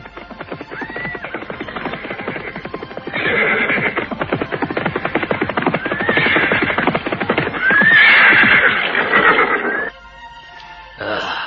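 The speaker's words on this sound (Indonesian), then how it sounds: "Tiba-tiba Rakai Linggar menghentikan kudanya." A horse on a rocky forest road is reined to a stop, with a steady clatter of hooves and loud, close whinnies and neighs that swell toward the end before a short pause.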